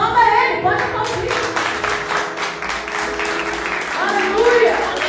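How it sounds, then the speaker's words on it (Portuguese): Congregation applauding during a Portuguese-language church sermon, a steady wash of clapping from the crowd that swells again near the end. "aplauda Ele, pode aplaudir"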